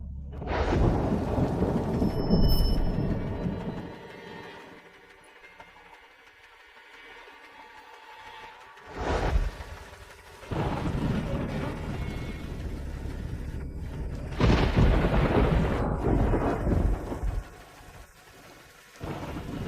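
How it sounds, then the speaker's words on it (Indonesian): Heavy rain pours steadily outdoors while deep rolls of thunder rumble several times, swelling loud and fading again over a continuous downpour. "Hujan deras."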